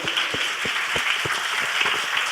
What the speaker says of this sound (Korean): 그 마음을 좀 박수로 한번 해주시면 고맙겠습니다